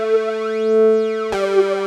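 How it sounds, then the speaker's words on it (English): A sustained synth tone swept by a strong phaser with heavy feedback, giving a resonant whooshing, vowel-like 'yo' movement; it cuts briefly and restarts near the end. "phasers always have this yo sound"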